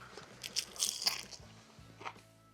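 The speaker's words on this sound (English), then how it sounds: "You can hear that crunch." A fried, battered alligator po' boy bitten into up close, giving a cluster of sharp, loud crunches in the first second, then softer chewing crackles and one more crisp crunch near the end.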